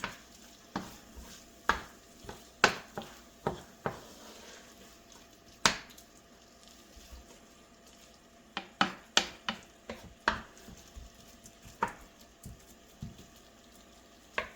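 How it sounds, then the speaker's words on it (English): A spatula stirring an egg scramble with meat and vegetables in a pan, sharp intermittent scrapes and clicks over a quiet low sizzle, near and alone. "just give everything a nice quick stir."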